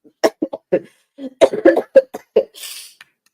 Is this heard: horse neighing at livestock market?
no